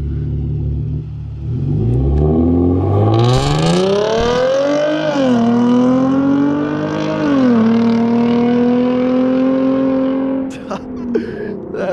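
Hyundai Genesis Coupe launching in drive mode with traction control off: a loud engine rev climbing in pitch, shifting and holding steady, heard close by from outside before cutting off near the end.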